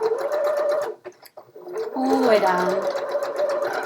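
Sewing machine stitching the fabric side vent of scrubs, a rapid mechanical whir that pauses briefly then resumes, close, with a person talking over it.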